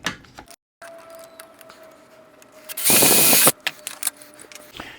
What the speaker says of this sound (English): go ahead with another 1/4-inch bit and let the hole that we drilled in that hook be the guide for your drill bit, and go ahead and drill all the way through